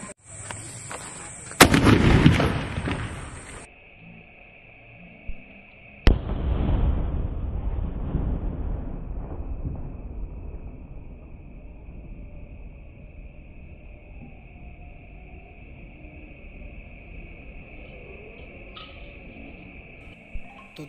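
A Sony Blue Berry sky shot firework for Diwali bursts loudly with sharp cracks, then a second big blast is followed by a long fading crackle and a steady whistling hiss trailing off into quiet.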